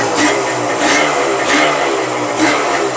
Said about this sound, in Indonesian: Mesinnya halus banget ini.